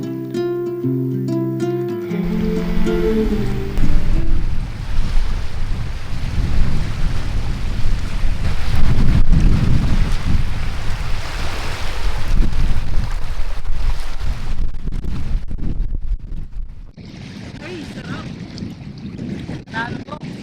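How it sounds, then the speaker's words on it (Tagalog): Strong wind near the water at a Canadian campground during paddleboarding, a loud continuous roaring buffet of microphone wind noise with surging gusts, faintly under a voice, easing off toward the end. "Malakas na yung hangin pero maganda tong paddleboard na to"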